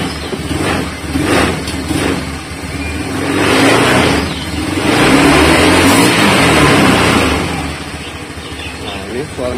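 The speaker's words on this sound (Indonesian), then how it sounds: "suara mesinnya kayak gini" A Honda Scoopy scooter with its engine bored up to 130cc and a stock exhaust revs in a few rising and falling swells, close and fairly loud, while someone talks over it.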